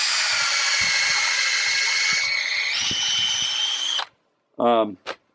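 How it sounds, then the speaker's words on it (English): A power drill whines steadily at high speed for several seconds, its pitch shifting as it bores through aspen wood, then stops, followed by a brief voice. "I'm drilling all the way through these"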